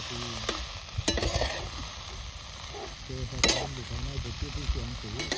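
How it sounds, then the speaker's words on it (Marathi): Chickpea greens sautéed in oil in a pan with a close, continuous sizzle and a few sharp stirring scrapes, plus faint tonal sounds in the background. "तेलात चांगले आता परतून घ्यायचे"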